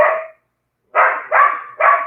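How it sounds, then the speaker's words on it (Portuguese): Several dogs barking at something on a house roof: one opening bark, a short pause, then three loud, close barks in quick succession with no talking. "os meus cachorros estão latindo em cima para alguma coisa que está em cima do telhado"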